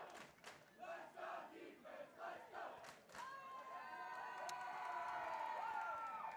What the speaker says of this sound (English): There's going to be a lively crowd here as the student section for Pine Ridge is right in front of our broadcast position.